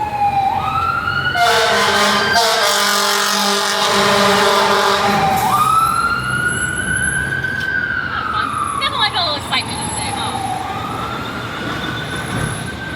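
A loud fire engine siren wails and yelps as it passes nearby in Savannah, with a wavering tone rising and falling over traffic rumble.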